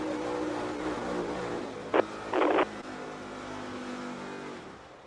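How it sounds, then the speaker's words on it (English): NASCAR Cup race car engine failing, heard on in-car audio: a steady loud engine roar with two sharp bursts of noise near the middle, a quick pop followed by a harsher rasp, then the drone continues and fades slightly. "You want to hear when an engine goes, when it goes bad, take a listen here."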